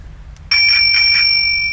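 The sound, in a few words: bicycle bell ringing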